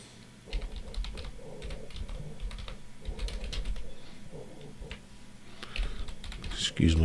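Fingers tap out a long string of keystrokes on a computer keyboard, quick irregular clicks close to the microphone in bursts, with faint background murmur and a louder knock at the end.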